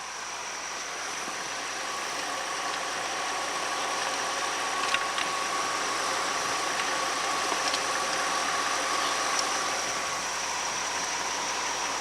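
Car engine idling low and steady throughout a fluid exchange service, a constant hum with a faint high whine and no talk.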